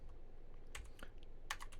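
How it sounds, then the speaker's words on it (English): An API key typed on a computer keyboard: a few quiet, close key clicks in two small clusters over a faint steady hum. "So now we're going to type in API key"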